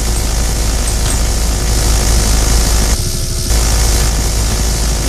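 A helicopter engine in the Battle Bit video game drones steadily and loudly at close range, a constant mechanical whir with a brief dip partway through and no talking.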